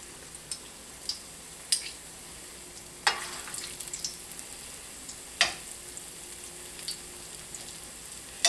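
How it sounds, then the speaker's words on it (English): Squash fritters frying in a hot cast iron skillet, giving a faint, steady sizzle with scattered sharp pops and crackles, including a few louder spatters. "We get that nice sizzle when we put it in."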